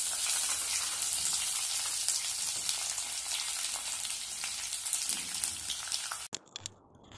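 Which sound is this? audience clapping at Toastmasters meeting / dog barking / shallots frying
shallots frying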